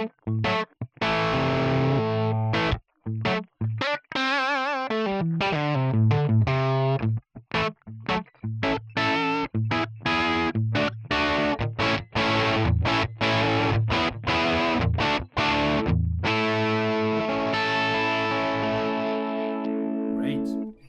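A Les Paul electric guitar plays through the bridge pickup into a crunchy amp model with a noise gate on. It sounds dry, with distorted chords and single notes that are loud and close, and the chords are cut off sharply between phrases.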